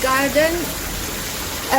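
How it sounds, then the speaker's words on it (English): Continuous rushing and splashing of water from a small garden waterfall in a tropical garden runs steadily beneath people talking nearby. "The sound of waterfall is very soothing."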